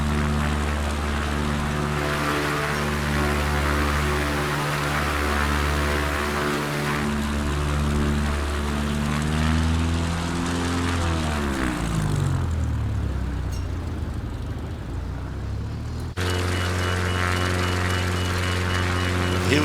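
A ski-equipped bush plane taxis uphill toward a campsite on Kodiak Island, Alaska. Its propeller engine drones loud and close throughout, the pitch steady at first, then slowing and falling before it revs back up near the end.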